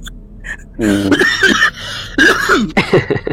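A person coughs several times in quick, strained bursts, close to the microphone, with some voiced, laugh-like breaths between.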